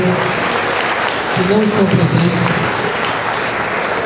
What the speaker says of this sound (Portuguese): eu peço a todos uma grande salva de palmas a essas duas pessoas